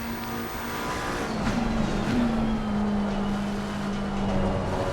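A GT3 race car in a racing video game howls through a hot lap, its engine note steady and loud, pitch rising and dipping slightly with throttle and shifts, with no talking over it.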